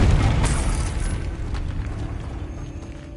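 A Confringo spell explodes in Hogwarts Legacy with a loud, deep, rumbling blast right at the start. The boom then rolls off into a sustained, gradually fading roar.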